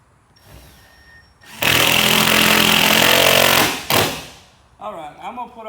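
A Milwaukee power tool runs loud and close, driving screws into a boat floor during a rebuild, with a sustained two-second burst, a short stop, another burst, then a voice speaking.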